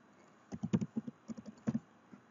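Quiet typing on a computer keyboard while naming a block in AutoCAD: about a dozen light, irregular keystrokes in quick bursts over near silence.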